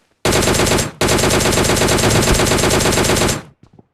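Loud sustained automatic gunfire from PUBG Mobile Lite, a rapid burst running nearly three seconds with a brief break near the start, then a few faint trailing shots at the end.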